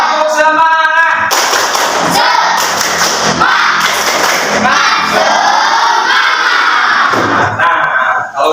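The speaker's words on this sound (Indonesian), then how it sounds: "Kita tepuk semangat dulu semuanya ya" Schoolchildren in a classroom doing a rhythmic spirit clap chant, loud close-up patterned clapping and thumping with children shouting and cheering along, voices chanting together.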